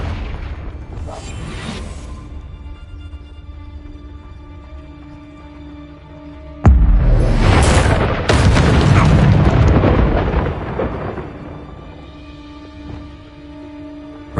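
A Confringo fire spell explodes in Hogwarts Legacy, a sudden loud boom that bursts in and rolls on with a roaring crackle for several seconds before easing back over steady game music.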